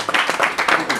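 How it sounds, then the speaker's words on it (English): Round of applause from an audience, close, loud clapping in uneven bursts across a brief moment. "So can you give a round of applause for"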